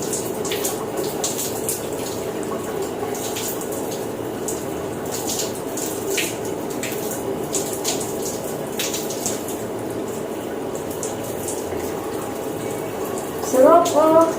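Water from a tap runs steadily into a bath at night, a continuous close splash with scattered drips and a brief louder burst near the end, while a person talks over it.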